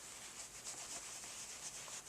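Steady, close scrubbing of a soft furry vintage mohair stuffed animal, a continuous rough rubbing with slight swells in loudness and no voices.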